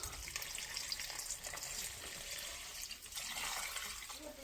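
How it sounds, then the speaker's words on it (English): Water pours steadily from a measuring cup into a soup pot holding chicken, a continuous splashing stream throughout, faint and without speech. "Now we're going to start with 4 cups of water."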